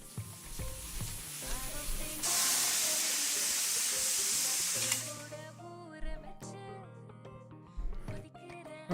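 Pressure cooker in a cooking video game venting steam: a loud bright hiss lasting about three seconds, framed by softer kitchen clatter and game music tones before and after.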